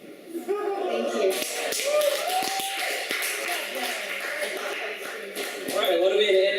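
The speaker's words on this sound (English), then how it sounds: "Another loud round of applause for Vashni." An audience at a poetry night at Wallich claps after a reading, a dense, steady patter of many hands lasting several seconds, fairly close and lively.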